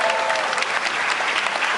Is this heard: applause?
yes